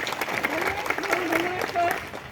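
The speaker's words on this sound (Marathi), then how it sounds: "जोरदार टाळ्या वाजून एकदा त्यांचे आपण आभार म्हणूया" Applause from a crowd at a public meeting in a ward of Wanadongri, Nagpur, sounds as a dense burst of clapping, near and fairly loud, while voices carry through it.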